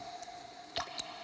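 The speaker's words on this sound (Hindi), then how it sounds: "पानी की बूंदें जब धरती पर गिरती हैं तो टप टप इस तरह की आवाज़ आती है।" A couple of soft water drips land close by, each a short wet plop, set against a faint steady hum.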